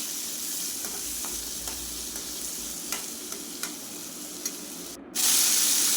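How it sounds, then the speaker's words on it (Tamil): Four ripe tomatoes and small onions sauté in a pan with a steady frying hiss, punctuated by scattered light scrapes and clicks. A sudden louder burst of hissing comes near the end. "ஒரு 4 பழுத்த தக்காளியாக போட்டு வதக்கிக்கிட்டேன்"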